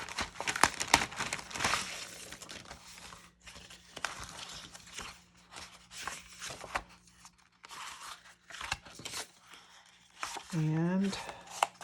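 Designer series paper being handled and crinkled, with irregular bursts of crackling and rustling close by, separated by brief pauses, while a person talks intermittently.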